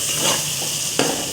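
Chicken karahi sizzles and frying hisses steadily in a pan, with a short scrape of stirring near the end; no talking.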